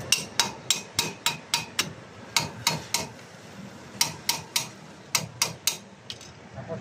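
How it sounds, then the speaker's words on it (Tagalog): Metal hammer blows on the rear wheel bearing assembly of an FB-type Mitsubishi L-300 van during a bearing replacement, sharp ringing strikes in rhythmic groups of four to six, close and loud, with short pauses between the groups. "pukpukin nyo muna konti guys"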